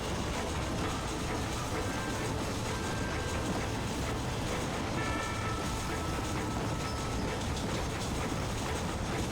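A moving train in the Red Dead Redemption video game, a steady dense rumble of rolling wagons with faint metallic squeals, continuous and fairly near throughout, no talking.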